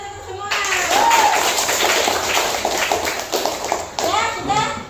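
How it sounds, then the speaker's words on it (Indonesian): Class of schoolchildren clapping in a classroom, a burst of hand claps and tapping running for several seconds, mixed with children's voices, moderately close. "tepuk tangan untuk semua"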